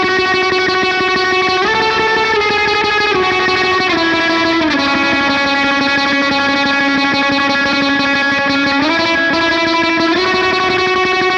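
A clean electric guitar plays a part from a worship song. Sustained chords ring loud and even, shifting to a new chord roughly every two seconds, with no talking.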